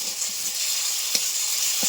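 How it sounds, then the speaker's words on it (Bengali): Close, steady sizzle of ginger and green chili paste frying in hot oil in a wok, a bright crackling hiss with a couple of small pops. "তেল গরম করে একটু আদা আর লঙ্কা বাটা কড়াইতে নিয়ে নিই"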